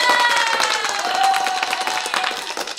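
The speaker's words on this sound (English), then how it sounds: "Let's give you guys a round of applause." A studio or church audience claps and cheers together, a dense wash of applause with scattered shouts and a sustained high whoop, loud and continuous throughout.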